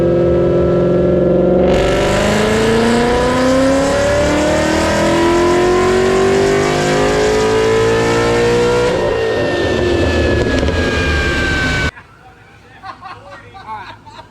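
A VMP supercharged S197 car revs hard, its engine pitch climbing steadily through a long loud pull before cutting off sharply. A quieter rumble follows, with crowd chatter faintly underneath.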